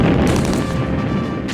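Commandos open fire on a German gun battery during the Dieppe Raid, from a cornfield: a dense, continuous roar of booming gunfire fills the whole stretch, loud and rumbling with no clear gaps between shots.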